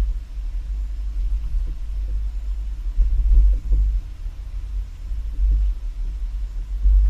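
A vehicle fitted with a tilting two-bike hitch rack rolls over full speed bumps on a test course, a loud low rumble that swells with each bump as the car rises and drops.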